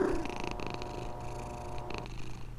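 A cat purrs steadily and softly, a low continuous rumble with faint background noise throughout.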